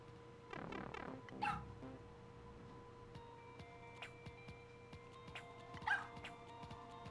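Undo Dog from Super Mario Maker barks in quick cartoonish yips, a burst of rapid barks near the start followed by a couple of sharp single yelps later, faint against a quiet game background.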